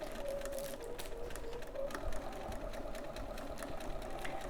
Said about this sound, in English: So we're just going to sew around the outside.